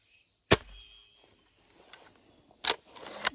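Two sharp shots from an IZh Baikal air rifle, each a crisp snap with a short metallic ring, separated by about two seconds of quiet with faint rustling.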